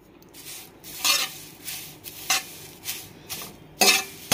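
Curry leaves dry roasting in a pan without oil give off soft crackles and rustles, broken by several sharp scrapes of a spatula against the pan, close up, with no speech.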